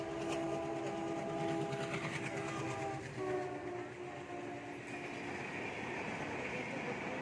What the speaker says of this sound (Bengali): তো দেখো ট্রেন চলে এসেছে